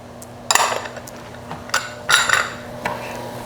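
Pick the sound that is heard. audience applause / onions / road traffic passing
onions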